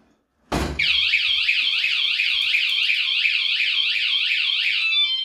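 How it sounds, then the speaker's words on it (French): Motorcycle anti-theft alarm going off after a sharp click, a loud close warbling electronic siren cycling rapidly and evenly for several seconds, with no talk. "la première alarme, c'est pour vous dire touche pas la bécane"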